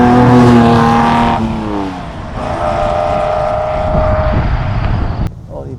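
A 1966 Ferrari 330 GTC with a V12 engine pulls hard at high revs, a loud, sustained engine howl whose pitch climbs and then steadies before easing off near the end.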